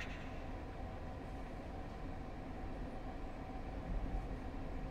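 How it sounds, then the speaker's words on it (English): A train rumbles and rolls along the rails in Persona 3 Portable, bound for Tatsumi Port Island late at night, with a steady wash of rail noise and no voices. "This is the final train bound for Tatsumi Port Island."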